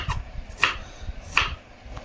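Banana stem chopped into small pieces with a knife on a board, two crisp, fairly close chops with fainter cuts around them.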